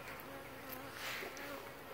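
Honey bees buzz around fall hives kept clear of grass underneath, a steady close drone of many wings with individual insects swelling louder as they pass, quiet overall.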